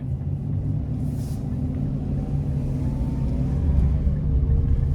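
A 2022 Chevy Express nine-passenger conversion van engine drones steadily from inside the cabin, climbing slightly in pitch as it pulls up an incline in manual mode before shifting near 3,700 RPM.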